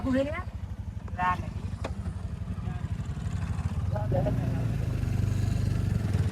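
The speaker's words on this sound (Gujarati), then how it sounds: "બાઈક આવે પાછળ બાઈક આવે બે આવે" Two motorcycle engines drone steadily close by, approaching from behind, a low throbbing rumble that swells toward the end, with a voice talking briefly over it.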